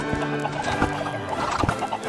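Chickens cluck in a video game chicken farm, several short clucks at an irregular rhythm over a steady background hum, close and moderately loud.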